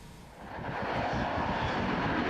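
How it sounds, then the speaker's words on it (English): The DarkStar unmanned stealth aircraft's jet engine swells into a loud, steady roar as it begins its takeoff roll on the dry lakebed at Edwards Air Force Base, close and continuous. "Igniters, takeoff roll, brake release."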